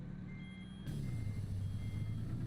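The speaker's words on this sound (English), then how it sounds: "Haven't got time for all the beeping to stop." Truck reversing alarm in American Truck Simulator, a steady repeating electronic beep that continues throughout over a low engine rumble, which grows louder partway through.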